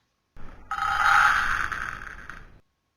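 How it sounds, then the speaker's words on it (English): Dried chickpeas rattle and shuffle in a continuous rush for about two seconds, a close, steady gritty clatter with no talking. "Dried chickpeas look like this, and they sound like this."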